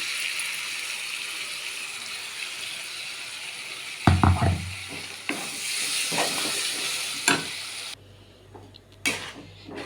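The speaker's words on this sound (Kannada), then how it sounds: "ಇಷ್ಟು ಮಸಾಲ ಫ್ರೈ ಆದರೆ ಸಾಕು. ನೆಕ್ಸ್ಟು ಪಾಲಕ್ ರುಬ್ಬಿದ್ವಲ್ಲ ಅದು ಹಾಕಿಡೋಣ." Spice masala sizzles steadily in a pan, then ground spinach puree drops in with a soft wet thud and is stirred with scraping strokes, the hiss dropping away near the end.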